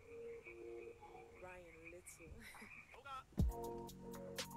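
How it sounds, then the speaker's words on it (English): Frogs croak and trill in overlapping bursts outdoors, mixed with faint voices and a few sharp clicks. "there's a crap ton of frogs outside."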